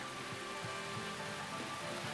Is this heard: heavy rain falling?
yes